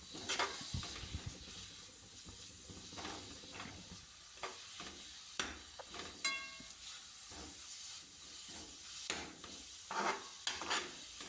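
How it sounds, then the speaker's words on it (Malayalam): Green chillies and ginger-garlic paste sautéing in a pan for prawn roast, with a constant hissing sizzle and a few sharp scraping stirs at irregular intervals. "എന്നിട്ട് ഇതെല്ലാം കൂടി ഒന്ന് വഴറ്റുക."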